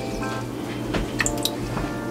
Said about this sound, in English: And the bottom half of the lemon, I am squeezing the juice into